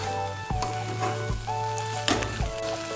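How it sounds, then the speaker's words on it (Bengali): Semolina (suji) being stirred in a hot pan over raised heat for a spicy Bengali jhal suji with winter vegetables, a steady loud sizzle with repeated scraping strokes of the spoon and no talking. "বাড়িয়ে দিয়ে সুজিটাকে ভালো করে একটু নেড়ে নেব।"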